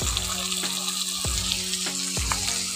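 Small fish frying in a pan with turmeric and chili powder, a steady close sizzle with bubbling, punctuated by a few soft periodic thumps from stirring, and no voices.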